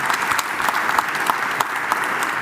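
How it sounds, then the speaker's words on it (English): A conference audience applauds at a closing plenary session in a large hall, a dense, even wash of clapping sustained throughout with no speech over it. "So I think we can have a big applause for these young people."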